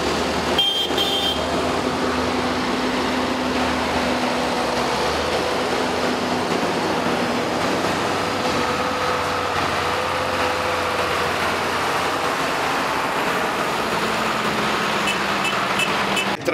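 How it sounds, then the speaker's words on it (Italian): Several tractors rumble at a steady idle at a tractor blessing at Santa Maria degli Angeli, Assisi, a dense continuous engine drone with a brief toot near the start. "Il trattore, insomma."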